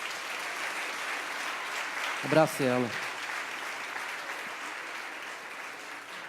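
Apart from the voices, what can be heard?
church congregation applause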